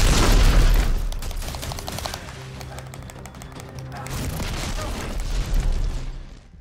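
Rocket fire in the video game Dead Space 3, a loud booming blast followed by rumbling roar and crackling bursts, swelling again toward the end without voices.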